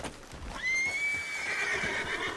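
A horse in the video game Red Dead Redemption 2 lets out a long, high whinny that rises and holds, close and fairly clear over a soft background rumble, with no talk over it.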